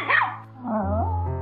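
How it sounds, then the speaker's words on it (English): A Chihuahua dog in a pet shop gives a short, close bark that slides into a whining, whimpering yelp, loud and alone. "This dog kept barking several times."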